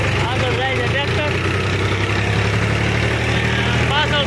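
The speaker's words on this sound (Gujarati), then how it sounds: "પાછળ છે મારું ટ્રેક્ટર." A tractor engine drives along a road with a steady, low, droning rumble that runs without a break, while someone talks over it.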